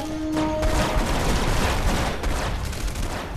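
A gun fires in rapid bursts during play of Red Faction Guerrilla on PC, dense loud crackling shots running continuously for a few seconds, with a brief electronic tone at the start.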